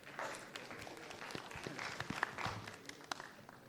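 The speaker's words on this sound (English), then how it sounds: "can we have a big round of applause for him?" An audience at a tech meetup talk claps for the speaker. The applause is faint and scattered, with uneven claps spread across a few seconds.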